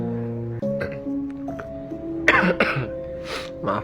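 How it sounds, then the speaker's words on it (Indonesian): A man coughs and clears his throat a few times, in short raspy bursts, indoors in an old house on a fragile wooden staircase. Brief tonal background sounds come before the coughs. "Maaf batuk."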